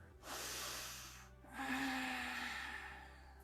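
A deep, slow inhale through the nose during a yoga session, close and breathy, in two drawn-out hissing swells with a short gap between them.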